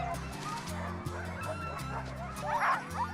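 Sled dogs at an Arctic polar expedition camp barking, yipping and whimpering in an overlapping noisy chorus, some close and some farther off, with a louder yelp near the end.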